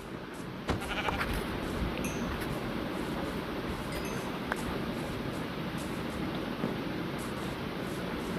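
Two goats in the Minecraft video game give a few short bleats early on, faint over a steady ambient hiss with scattered small game clicks.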